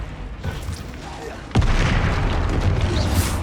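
A Confringo blasting spell bursts with a sudden loud boom in the Hogwarts Legacy video game, followed by a sustained, rumbling crackle of spell effects and combat noise.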